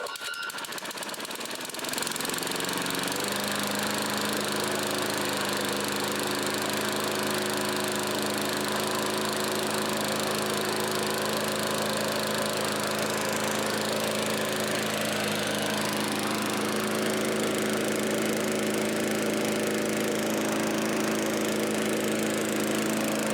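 A vintage Craftsman lawn mower engine starts after a pull and settles into a loud, steady idle that runs on without a break for over twenty seconds, close to the listener.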